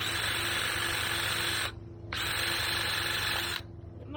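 A power drill whirs steadily while boring holes for banana plant supports, running in two sustained bursts with brief pauses between them and a bent bit in use.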